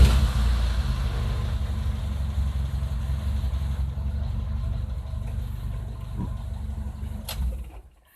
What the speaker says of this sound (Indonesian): tanpa ngocok-ngocok udah terbukti langsung nyala tanpa harus kocok-kocok gas